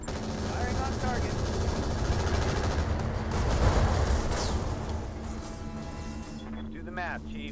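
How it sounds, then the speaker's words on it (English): Mech weapons fire in the modded Battletech Roguetech game, a dense continuous barrage of booming shots and rumbling explosions layered with mechanical whine throughout. "Firing on target."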